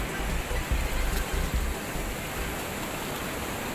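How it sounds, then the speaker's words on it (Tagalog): Ocean waves wash over rock formations at Patar, Bolinao, Pangasinan, a broad hissing rush of water with a few heavier low thumps early on, steady and fairly close. "Takas ng alon, ayan na yung alon"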